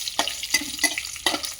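Cashew nuts fried in a pan for rice rava upittu, with four sharp scraping strokes of the spoon at a steady rhythm over a low sizzle, close and clear.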